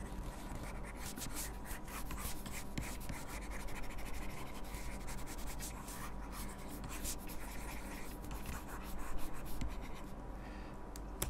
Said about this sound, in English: I can go ahead and do my rough draft sketching